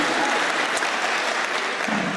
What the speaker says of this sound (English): can you give yourselves a round of applause for coming out to hear me?